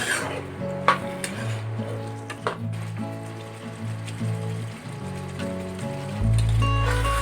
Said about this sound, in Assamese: চিকেনখিনি আমি এতিয়া লৰাই ভাজি আছোঁ।